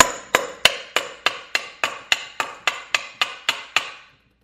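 Steady, evenly spaced metallic taps strike the bottom of a Honda Grom engine case, about fourteen loud close hits, each ringing briefly before the next, until the series stops.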